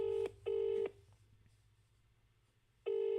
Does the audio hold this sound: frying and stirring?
no